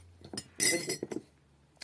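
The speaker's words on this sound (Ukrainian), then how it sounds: "розмішуємо це у водичці" A teaspoon clinks and scrapes against a glass, stirring salt into water, in a short burst of quick, light taps, close up with no talking.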